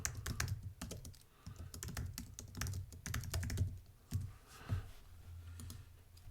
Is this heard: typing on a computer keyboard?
yes